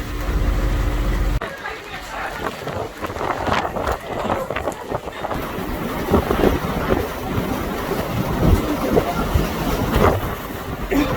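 Strong, gusty Antarctic storm wind with blowing ice roars across the microphone in a steady rumble, with a voice speaking now and then under the buffeting.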